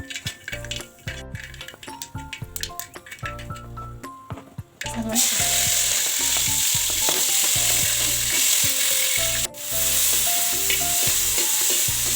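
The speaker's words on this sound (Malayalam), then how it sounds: "ഉരുളി ചൂടായി വന്നപ്പോൾ ഞാൻ എണ്ണ വെച്ച് കടുക് പൊട്ടിക്കാൻ പോകട്ടോ" Loud crackling and popping sizzle as mustard seeds splutter in hot oil in a heavy pan, intensifying after a quieter stretch with scattered faint pops, continuing steadily throughout.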